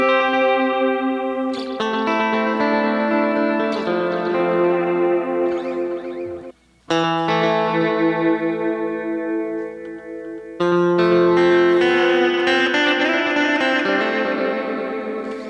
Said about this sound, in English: if I turn the feedback on head 3 there, you start to get these cool reverby sounds